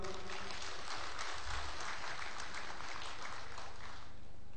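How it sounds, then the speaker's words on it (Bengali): Audience applauding for the company at a distributor success ceremony, a dense, even patter of clapping held for several seconds, fairly faint and distant. "কোম্পানির জন্য একটা হাততালি হোক।"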